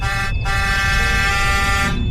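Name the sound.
loud bus horn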